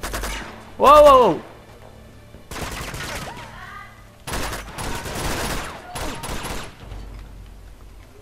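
Sniper gunfire in Uncharted 2, several loud sharp bursts of shots spread across the stretch, separated by quieter gaps, with a man's exclamation heard over one volley.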